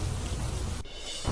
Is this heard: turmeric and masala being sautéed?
no